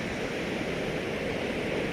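Broad, steady rushing of water flowing from the partly melted Saif ul Malook lake, an even hiss without breaks, moderately loud and unaccompanied by talk.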